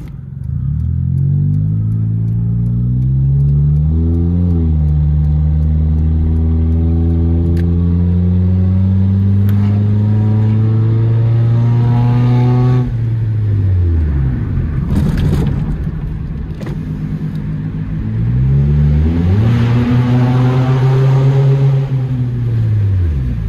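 A 400 hp turbocharged Nissan Sentra SE-R with an electronic exhaust revs loudly up close, its pitch rising and falling in long sweeping pulls through the gears, with a brief drop to idle between bursts.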